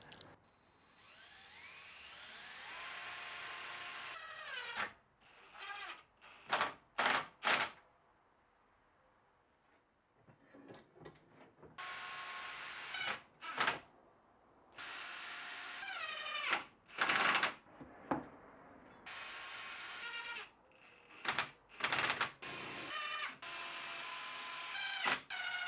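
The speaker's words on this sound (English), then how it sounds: "I screw the sides together so that I can continue working immediately" Screws being driven into wooden drawer sides for a workbench drawer, bursts of a power driver whirring in short and longer runs with pauses between, close and fairly loud, no voices.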